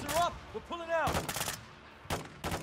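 Gunfire in the video game Call of Duty Modern Warfare II: several sharp, loud shots crack in short bursts, interspersed with game effects and a player's voice.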